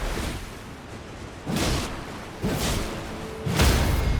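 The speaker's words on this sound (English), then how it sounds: "And down here we've got a waterfall." A waterfall in the video game Elden Ring gives a steady broadband rush of falling water, with louder whooshing swells roughly every second that sound close and fill the whole clip without any talk.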